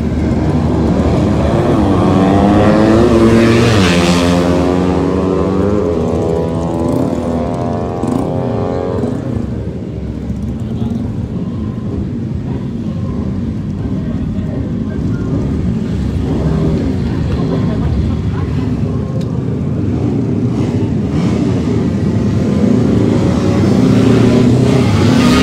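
Race vehicles idling and revving at the starting grid of a street race at Meikarta. Engines rise and fall in pitch, loud and nearby, over a crowd murmur.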